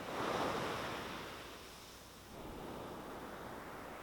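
Ocean surf rolls in as a broad, steady wash of waves, loudest in the first half second and easing slightly before a second swell sustains; wind noise mixes in, with no voices present.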